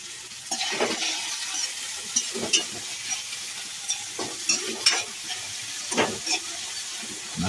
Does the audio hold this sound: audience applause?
no